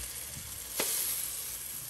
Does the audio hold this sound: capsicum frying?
yes